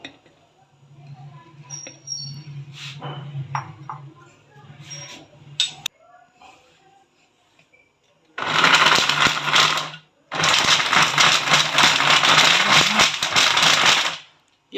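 A kitchen blender whirs through soaked tamarind pulp for chutney in two loud bursts, a short run and then a longer one, after quieter clinks and handling sounds with someone talking.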